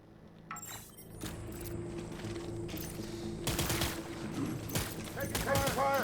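Video game gunfire in Death Stranding, bursts of rapid shots crackling in clusters over a rumbling engine-like drone, with louder volleys in the second half and voices in the game.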